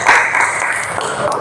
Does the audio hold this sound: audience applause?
yes